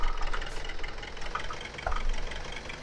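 A tractor engine in a farming video game runs at idle, a steady low rumble with a faint knocking texture throughout, louder bursts near the start and middle, no talk over it.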